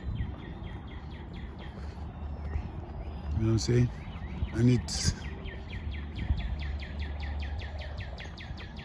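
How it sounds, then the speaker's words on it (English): Birds chirp in quick repeated series during a nature walk near houses, moderately close and fairly faint, running under a voice that comes in briefly midway. "you can just hear the birds"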